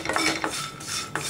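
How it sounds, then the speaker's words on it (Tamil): Pumpkin seeds roast in a pan while a utensil stirs and scrapes them against the metal, giving a short run of close, rustling clinks. "பூசணிக்காய் இதை வறுத்துக்கலாம்."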